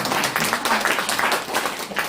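A church congregation bursts into brief, fairly loud applause during a sermon, a short flurry of many hands clapping together.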